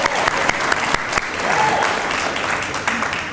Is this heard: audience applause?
yes